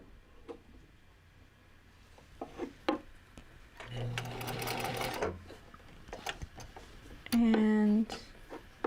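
Sewing machine stitching fabric binding: a short burst of motor whirring lasting about a second, amid small clicks and fabric handling, with a brief tone near the end and soft talk around it.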